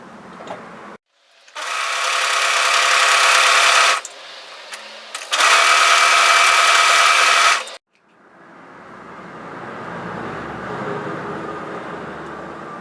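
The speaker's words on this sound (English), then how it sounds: "The first thing we're going to do is overlock serge tidy each of these shorter ends." An overlocker serges the short edges of a fabric pocket piece in two loud, steady runs close by, with a brief pause between them, followed by a quieter, softer whir as it winds down.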